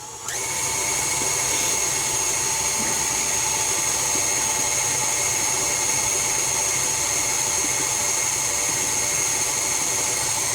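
An electric mixer mixing cookie dough whirs at high speed, a steady loud motor whine running continuously from start to finish.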